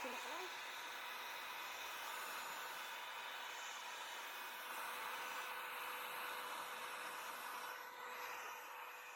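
A blow dryer runs continuously close by, a steady airy roar used to dry the water from a carbon fiber tail light overlay being installed on a 2022 Subaru BRZ.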